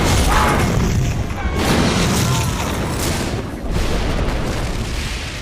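A loud, rumbling explosion in a Jason Statham film, with sustained roaring debris and crackling, booming continuously with dramatic, cinematic weight.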